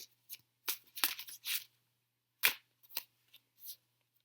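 Tarot cards being handled and shuffled: scattered short papery rasps and flicks arriving in a few quick bursts separated by silence, close and fairly crisp, with no talking.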